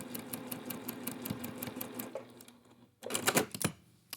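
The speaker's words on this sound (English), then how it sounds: "We're going to go back into the machine and stitch." Sewing machine stitching a square-in-a-square quilt block, fast rhythmic clatter of the needle running steadily, pausing briefly, then resuming close by.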